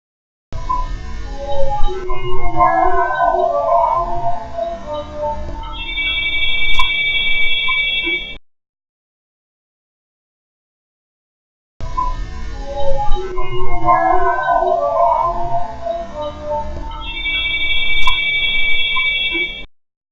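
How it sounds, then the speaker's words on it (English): An alarm goes off inside a museum during a paranormal investigation, a shrill electronic tone sounding through a murky, noisy recording, played twice with a silent gap between. "before she apparently sets off the alarm to get their attention"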